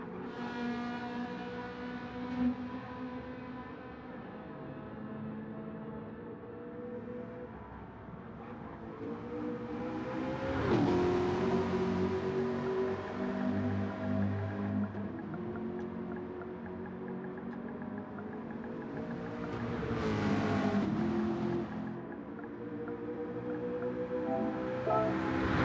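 Ferrari 458 and Ford GTLM race cars in Gran Turismo 7, their engines droning steadily with rising revs and two sharp surges, loud and continuous with no talk.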